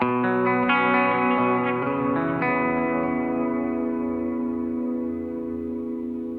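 A sustained electric guitar chord rings out and decays slowly, with a soft reverb tail sitting beneath the notes.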